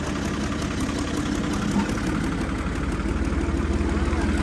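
A tractor fitted with Panther tyres idles close by, a steady low rumbling drone with an even mechanical vibration and no clear change in revs.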